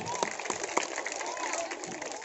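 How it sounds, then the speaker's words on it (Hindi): Enthusiastic applause from a village crowd at a felicitation ceremony, dense clapping with a few sharper claps standing out, voices mixed in beneath. "एक बार नमन करते हुए जोरदार तालियां आदरणीय वजीर जी के लिए।"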